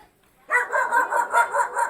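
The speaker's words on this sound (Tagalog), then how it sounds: "May aso ho." A dog barks in a quick run of about six evenly spaced barks, close and loud, starting after a brief quiet moment with no talking over it.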